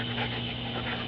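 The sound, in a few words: dog panting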